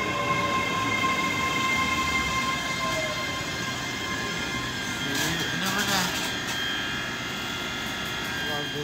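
A Class 385 passenger train, unit 385016, runs at Edinburgh Haymarket station on a Glasgow Queen Street to Edinburgh Waverley service, with a steady rumble and wheel noise and some brief squeals, while people talk nearby.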